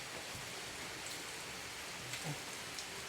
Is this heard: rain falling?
yes